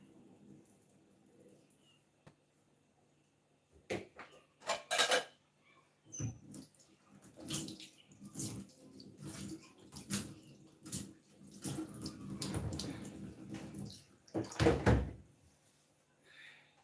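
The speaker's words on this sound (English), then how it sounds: "strain the water out." Water is strained out of a cooking pot while preparing fufu and light soup, heard as uneven bursts of splashing and pouring with clanks of the pot, loud and close between quiet pauses.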